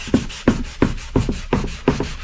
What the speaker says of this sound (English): We're going to wet sand this for a while, and it should reveal any spots that I missed.